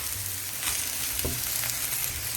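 Sausage and shrimp frying in a pan for Guyanese fried rice, a continuous bright sizzle with occasional soft stirring knocks, close and steady throughout.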